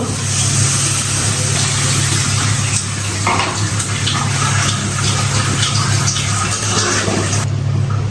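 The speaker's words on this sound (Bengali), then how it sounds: "মশলা কষানো হয়ে গেছে এখন পানি দিয়ে দিব" Water is poured into a cooking pan of fried spices for a fish curry in a loud, steady rush lasting several seconds, over a constant low hum.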